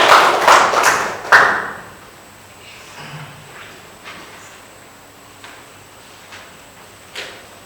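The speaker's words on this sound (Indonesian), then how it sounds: "Ya, tepuk tangan untuk kalian semuanya." Students clapping in a classroom: a short burst of group applause at the start that dies away within two seconds, followed by quiet room sounds and a few scattered knocks and taps.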